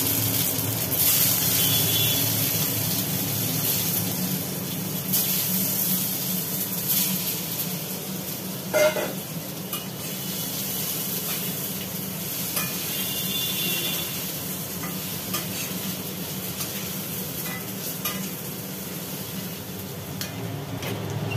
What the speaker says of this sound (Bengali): এবার আলুগুলো একটু ভেজে নেব।